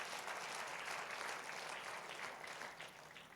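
A church congregation gives a loud round of applause during a sermon, sustained and dense for several seconds before tapering slightly at the end.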